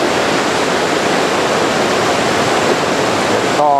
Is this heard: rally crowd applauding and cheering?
no